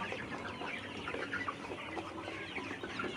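Sixty-seven-day-old layer pullet chickens cluck and murmur throughout a farm shed, many overlapping soft calls forming a steady, busy flock chatter.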